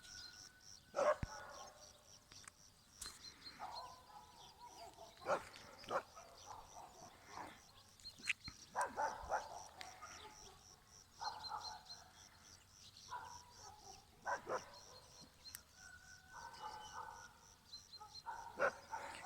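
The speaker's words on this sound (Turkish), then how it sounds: "köpekler gittiler onlara havlıyorlar" Dogs bark repeatedly at a distance, the barks scattered and faint, with birds chirping in the background.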